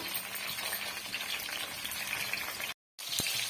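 Brinjal fries in oil for ennai kathirikai kuzhambu with a steady, moderate sizzle. The sound cuts to silence briefly near the end, then resumes with a single knock.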